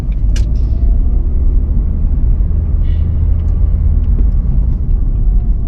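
A Mercedes car being driven, heard as a loud, steady low rumble of engine and road noise from inside, continuous throughout with a few faint higher ticks.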